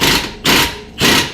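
Hammering a socket onto a rusty exhaust bolt, three heavy metallic strikes about half a second apart, close and loud, each ringing briefly before the next blow.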